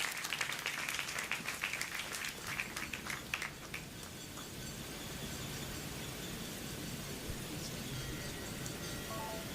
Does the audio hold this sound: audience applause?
yes